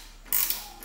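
A 13mm ratchet with spinner turns a bolt under the plenum of a VS–VY Ecotec V6, giving one brief, close, bright ratcheting burst that trails off quickly.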